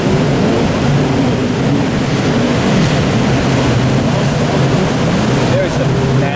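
Heavy surf pounds a windy beach in a steady, loud roar of breaking waves, with wind buffeting the microphone throughout and no clear pauses between swells.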